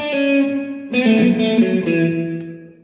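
A sustained electric guitar chord with a short slapback echo from a Valeton GP-100 multi-effects unit, struck again partway through and left ringing as it slowly fades.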